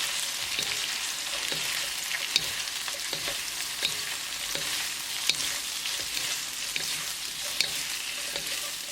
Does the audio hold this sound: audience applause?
no